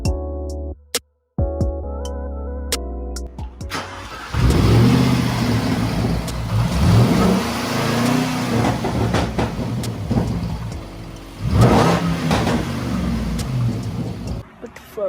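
A Jaguar XFR fitted with a custom air intake rumbles and revs, engine roar swelling in repeated bursts after a few sharp knocks at the start, with people talking over it.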